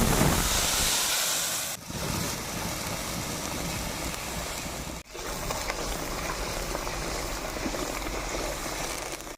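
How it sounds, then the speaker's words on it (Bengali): Whole garam masala, bay leaf and dried chilli sizzle loudly in hot oil to start a fig curry. The dense, bright hissing crackle fills the whole stretch and cuts out briefly twice. "গোটা গরম মশলা, তেজপাতা, শুকনো লঙ্কা সম্বারে দিলাম"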